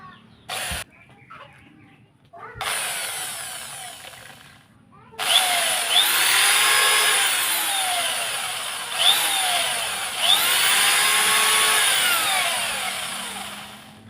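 A power drill whines through PVC pipe in bursts, its pitch rising and falling as it bites in, with short pauses between runs.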